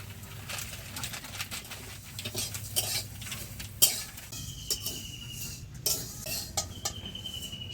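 Village-style semai vermicelli frying and being stirred in a pan, a spatula scraping and clinking against the metal in irregular bursts, close and moderately loud, with faint bird calls in the background.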